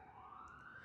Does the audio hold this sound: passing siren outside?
yes